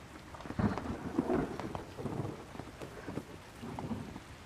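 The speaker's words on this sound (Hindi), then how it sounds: "अचानक से बारिश आ गई।" Sudden rain falls steadily with low, rolling thunder rumbling underneath, a dense wash of drops that stays fairly faint and distant, with no talk.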